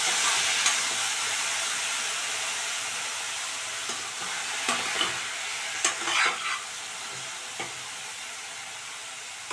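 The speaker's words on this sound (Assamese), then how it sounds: "ফুলখিনি ভালদৰে ভাজি লাগি গৈছে" Papaya flowers fry in a pan with a spoonful of banana-peel alkali, and the oil keeps up a steady sizzling hiss. Scattered clicks and scrapes of stirring come through close by, and no one speaks.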